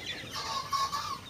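A farm chicken clucks softly while its closed eye is opened and treated with drops, the faint, close calls running over a low background hiss.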